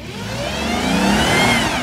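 Jeep engine revving wide open during a Jeep-versus-Jeep tug of war, a loud rising roar climbing steadily in pitch over about two seconds, close and sustained.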